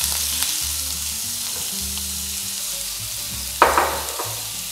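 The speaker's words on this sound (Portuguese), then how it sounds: "Então aqui eu vou saltear bem rápido a Lula." Squid sautéed quickly in a hot pan, a steady loud sizzle and hiss of frying with a sharp burst of spatter near the end, close and without speech.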